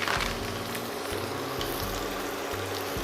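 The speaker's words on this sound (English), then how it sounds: "We put the turkey on a hot pan." Turkey searing in a hot pan of oil and butter, a steady close sizzle and frying crackle running without pause, with no voices.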